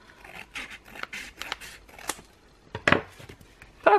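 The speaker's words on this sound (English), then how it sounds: "So the last one I'll just do with scissors." Scissors cut through thick paper for a travel journal, with a series of crisp snips and crunchy slices, close and clear, with no talking.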